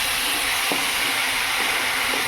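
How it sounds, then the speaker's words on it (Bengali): Mango chutney with sugar being stirred in a pan, a steady loud sizzle and bubbling hiss with a few soft scrapes of the spoon, no talking. "এবার এটাকে একটু নাড়াচাড়া করতে হবে।"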